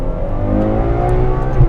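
A Ferrari 812 Superfast driven hard, its engine holding a loud, steady high-revving drone in second gear with a rising, smooth tone from inside the car.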